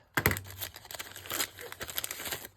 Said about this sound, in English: I'll just cut the bag